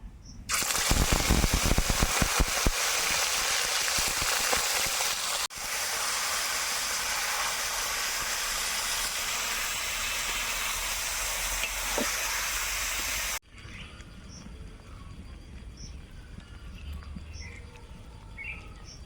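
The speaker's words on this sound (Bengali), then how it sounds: "তেল গরম হয়ে গেছে তেজপাতা দারচিনি এবার দেবো চিকেনগুলো" Chicken pieces hit hot oil with bay leaf and cinnamon for lemon chicken, setting off a loud, steady sizzle and hiss with scattered crackles and stirring, which drops abruptly to a softer simmer near the end.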